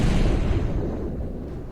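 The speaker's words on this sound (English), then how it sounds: "but I should go with the default explosion." A default explosion sound effect in a tabletop role-playing game session stands in for a lightning bolt: a single loud, low rumbling boom that decays slowly over nearly two seconds, with no talk.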